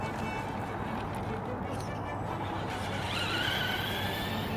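Tamiya Monster Beetle RC car running then coasting off the throttle, a steady broadband rumble of wheels over ground with a rising whine near the end, continuous and fairly close.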